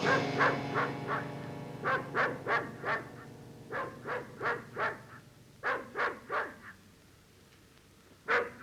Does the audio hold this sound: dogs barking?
yes